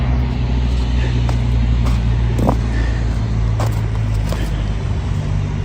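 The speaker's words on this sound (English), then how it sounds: "So we're gonna have some traffic noise here, unfortunately." A car passes on a road beside a creek at night, a steady close engine and tire rumble that fills the whole stretch at fairly high level, with faint outdoor ambience and no talking.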